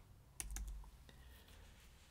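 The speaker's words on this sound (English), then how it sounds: "and I'm just going to type Thanksgiving." A computer keyboard is typed on a few times, with several quick, light key clicks close by and then quiet, faint room noise.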